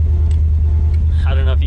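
A 1968 Ford Mustang Fastback's car horn sounds briefly over a loud, steady engine rumble, with a voice talking nearby.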